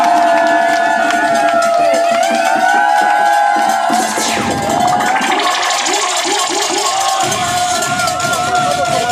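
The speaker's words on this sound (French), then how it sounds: "Applaudissons!" A large crowd cheers and shouts loudly at a royal installation ceremony in Paris. The roar is continuous and close, with sustained tones running beneath it.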